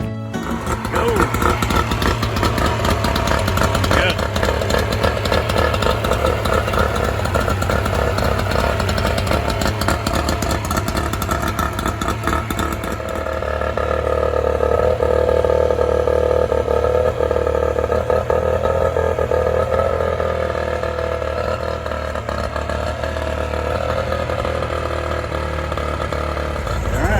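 An outboard motor on a pontoon boat runs steadily and loudly for the whole stretch, a dense buzzing drone that settles slightly in tone partway through, with no speech over it.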